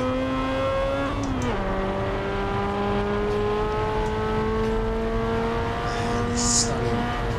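A race car engine drones steadily on the Nordschleife in Assetto Corsa, a loud sustained note that dips briefly at a gear change and then climbs slowly, with a faint brief blip near the end.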